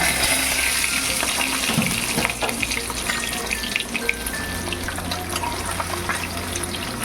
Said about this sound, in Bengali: এইভাবে আমি মাছগুলোকে সব ভাজবো